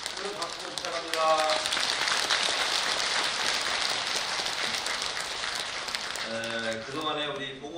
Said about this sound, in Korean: 우리 두 사람들하고 우리 두 분에게 큰 박수 부탁합니다